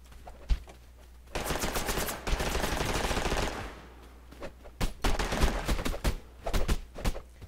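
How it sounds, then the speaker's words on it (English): Gunfire in a video game, with single sharp shots, a dense sustained burst of rapid fire, then another scattered run of loud cracks, all close and with no talking. "somebody's shooting at me!"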